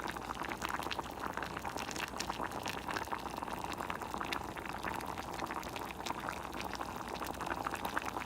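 A budget seafood boil with shrimp and cracked eggs simmering in a pot, a soft, steady bubbling that goes on without pause, faint and close with no talking.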